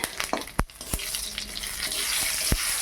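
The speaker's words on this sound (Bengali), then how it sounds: "দিয়ে দিলাম লঙ্কা পাঁচ ফোড়ন তেজপাতা" Dried chilli, panch phoron and bay leaf crackle in hot oil for Bengali veg dal, sharp loud pops and spits breaking over a continuous close sizzle, no voices.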